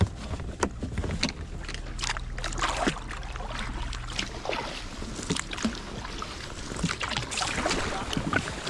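Kayak paddling on open sea water near the Isle of Haute, with repeated splashy paddle strokes and water swishes over a steady wind-buffeted background, fairly close and continuous.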